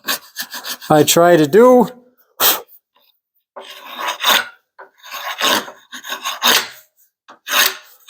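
A sharp chisel cutting a wood joint for a garage door jamb gives close, short scraping rasps in irregular bursts, and a voice speaks briefly near the start.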